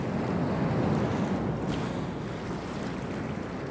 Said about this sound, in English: Call these surge waves, huh? Yep, surge waves.